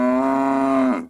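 A small cow on pasture gives a single loud, sustained moo close to the microphone, steady in pitch before sliding down and fading out at the end.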